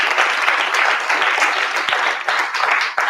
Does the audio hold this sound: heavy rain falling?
no